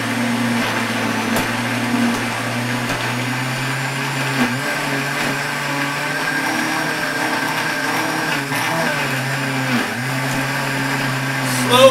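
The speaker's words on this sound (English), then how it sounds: "Slowly but surely, the Lequip RPM blender is blending up all these greens" A Lequip RPM blender runs steadily as it blends collard greens, with a loud continuous motor whine and a slight wavering in pitch as the load changes, close and sustained throughout.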